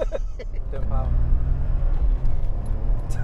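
A 1992 Lotus Carlton with its turbocharged engine under power, a steady low rumbling drone inside the car as it pulls, with people talking over it.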